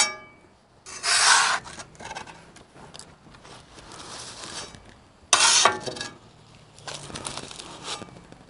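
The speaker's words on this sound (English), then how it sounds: "The scraper is good about scraping it to the edge." A metal spatula scrapes across the flat steel top of a Blackstone griddle in loud, rasping strokes, with two strong passes and several softer ones, close up and with no talking.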